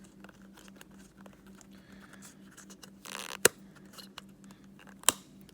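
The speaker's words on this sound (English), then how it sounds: "I'm just taking it and peeling it up." Foam insert peeled out of a 1/10 RC buggy tire: soft scratchy rustling and crinkling with a steady low hum, broken by two sharp, loud snaps near the end.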